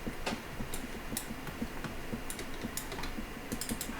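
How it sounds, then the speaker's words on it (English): Computer keyboard key presses during a 3D modeling session: a steady run of soft, close clicks and taps with occasional sharper keystrokes, quiet and alone with no talking. "Press 4 on the keyboard."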